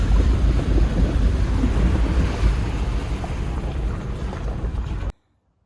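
A vehicle drives through a river crossing with a continuous rushing wash of water and engine rumble, loud and broadband, until the sound cuts off abruptly near the end.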